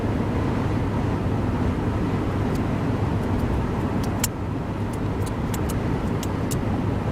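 Steady car interior road noise at 70-plus mph on an interstate highway, a loud continuous low rumble and tire roar with faint brief ticks and clicks over it, no talking.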